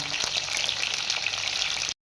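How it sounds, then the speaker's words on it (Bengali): Pieces of pointed gourd (potol) fry in hot oil with a steady, dense, close sizzle that carries on evenly before cutting off to silence. "যতক্ষণ আমার পটলগুলো ভাজা হচ্ছে"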